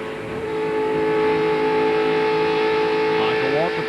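Joe Nemechek's NASCAR Busch Grand National car at Atlanta, heard from the onboard camera, a steady loud engine drone with tonal whine that shifts near the end, under commentator talk.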